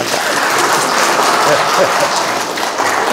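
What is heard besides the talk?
audience applause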